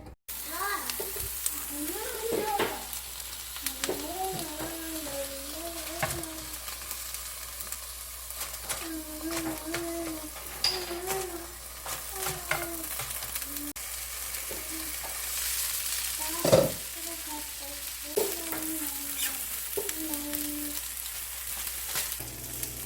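Cheese for a homemade pizza cooks in a pan with a little olive oil over very low heat, giving a gentle steady sizzle. Voices talk over it now and then.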